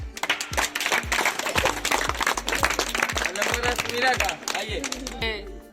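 Sustained applause from a group of children for participants at a school general knowledge quiz competition, crisp close hand claps with a steady dense rhythm, voices chattering underneath.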